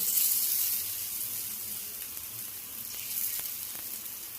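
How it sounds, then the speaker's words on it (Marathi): Besan chilla batter spread thin in a pan on a low flame, with oil drizzled around the edges, gives a steady soft sizzle and faint crackle, fairly close and without talk. "त्यानंतर गॅस मंद आचेवर ठेवून सगळ्या बाजूने तेल सोडायचे आहे।"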